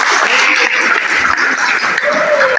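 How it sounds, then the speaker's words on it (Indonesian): Loud, sustained applause from a student audience at a school student-council candidate debate at Methodist 5, a dense wash of clapping filling the room, with a voice briefly audible near the end. "tepuk tangan kembali lagi"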